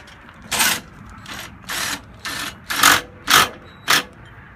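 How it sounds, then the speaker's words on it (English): An impact drill with a 3/16 socket drives the stabilizer jacks on a camper or travel trailer, heard as seven short, sharp mechanical bursts in a regular rhythm, close and loud, separated by brief pauses. "let's get an easy impact drill with a 3/16 socket. And go ahead and stabilize the camper"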